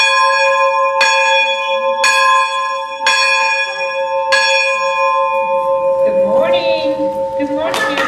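A single bell at a Veterans Day school ceremony rings out in five clear, resonant strokes about a second apart, loud and close, before a voice begins speaking over its fading hum.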